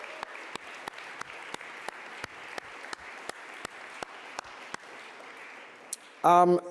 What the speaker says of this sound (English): Can you guys join me in a round of applause for our winners?